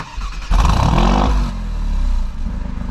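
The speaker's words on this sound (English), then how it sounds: "Get a little bit of that cool exhaust note, and then we can go ahead and shut it off." A 2024 Alfa Romeo Giulia Quadrifoglio engine fires up with a loud burst and settles into a deep, rumbling exhaust idle, close and strong.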